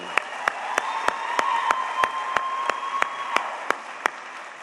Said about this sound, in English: One more round of applause for Evan Thompson